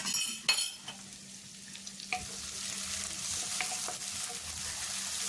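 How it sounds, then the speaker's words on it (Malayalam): Crushed ginger and garlic frying and being stirred in a pan for a Kottayam-style Kerala sardine curry, a steady close sizzle with a few spoon scrapes and clinks early on, no talk. "നമുക്ക് ഇട്ട് കൊടുക്കാം ഇനി വീണ്ടും നമുക്ക് നല്ലവണ്ണം ഒന്ന് ഇളക്കി കൊടുക്കാം"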